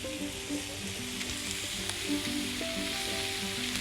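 Green chili, pork, celery and onions sizzle in a pot with a continuous, close hiss. Faint tonal hums and scattered soft stirring noises run beneath it.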